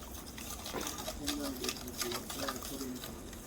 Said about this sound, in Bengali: ভালো করে ডিমটাকে মিশিয়ে নেব।